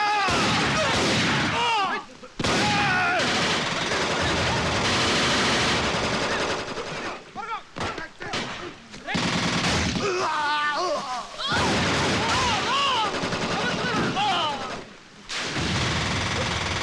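Gunfire in a Telugu movie scene, with long, loud bursts of rapid machine-gun shots and a few brief gaps, mixed with shouting.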